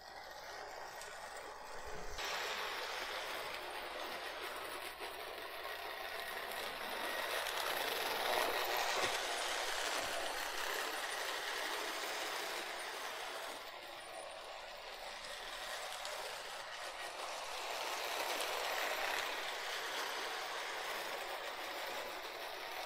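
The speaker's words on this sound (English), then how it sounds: "Well, I am thrilled to have this train running around my tree now." A vintage toy train rattles and hums steadily along its track around a Christmas tree, a continuous close mechanical whir that swells and fades slightly as it circles.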